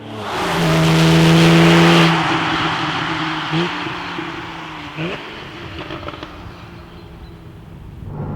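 A 2013 Porsche 911 (991) Carrera 4S with manual gearbox revs hard and loud, the engine note climbing, then dropping with gear changes and fading to a lower steady drive.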